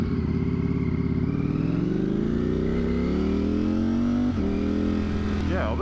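A 200+ horsepower motorcycle with a smaller front sprocket rides loudly up close, its engine droning steadily and climbing in pitch, then a quick shifter auto-blip breaks the note with a brief dip before it rises again.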